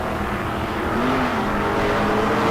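A 1963 Corvette Roadster and a 1973 Nova launch off the line at a drag strip bracket race, giving a loud, dense, continuous engine roar that swells slightly as the cars pull away.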